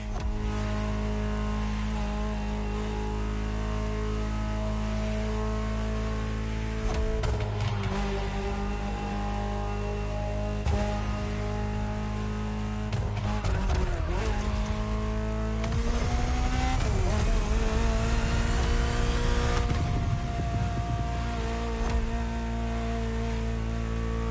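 Ferrari supercar engine driving in The Crew Motorfest, a steady loud engine drone with rising revs and shifting pitch during acceleration, continuous throughout with no talk.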